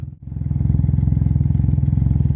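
A Can-Am Ryker motorcycle fitted with a Dynojet throttle commander, its engine running close by with a steady rapid pulsing beat after a brief dip, strong and loud throughout the short burst.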